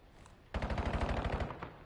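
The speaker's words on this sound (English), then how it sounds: "Gonna have to do it with the SMG" An SMG fires in a competitive video game match: one rapid, continuous automatic burst of about a second, loud and close, after a brief quiet lead-in.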